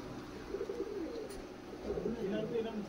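Large Teddy and Kamagar pigeons in Kolkata coo softly and continuously in a low murmur, with a person talking over them.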